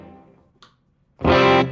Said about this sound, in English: I have just a room reverb with a very low mix